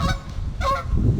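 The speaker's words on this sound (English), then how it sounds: "Lots of geese." Geese honk twice in quick succession, loud and fairly close, over a low rumbling outdoor background.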